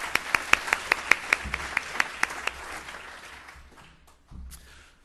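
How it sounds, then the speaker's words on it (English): Conference audience applauding the organisers and volunteer committee of the GOVIS 2013 government IT conference. A sharp, steady run of single claps rides over broad room applause, which fades away within a few seconds to quiet. "how about a round of applause for Roz, Matt, and the Committee of Volunteers for organising the Govis Conference"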